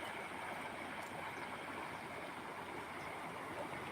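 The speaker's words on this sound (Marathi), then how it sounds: "ते पहा मित्रांनो पाणी किती वाहत आहे" Rainwater pours along after heavy rain, a steady, close rushing wash like a running stream that holds even and unbroken throughout, with no voices.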